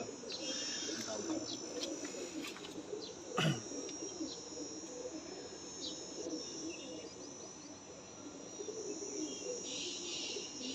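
Breeder pigeons in a loft give faint, low rolling coos over a steady hiss of crickets and ambient noise. A brief sharp knock cuts in near the middle, and there are occasional small chirps.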